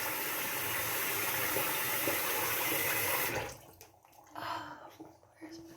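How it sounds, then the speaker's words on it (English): Tap water runs steadily and fairly loud while soap is rinsed off a face, then cuts off, leaving faint splashes and handling sounds. "You gotta really rinse it off really good, because like I said, if not, that soap will stay on your face."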